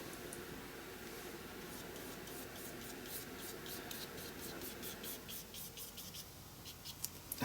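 A brush spreads matte medium across a card front in soft, close strokes, a quiet continuous rubbing and swishing with faint rhythmic brushing pulses and no voices.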